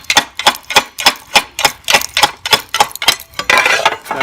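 Slate roofing tile being cut from the back, giving a series of about fourteen sharp, evenly spaced crisp snaps or clicks, close and fairly loud, ending in a rougher scraping burst.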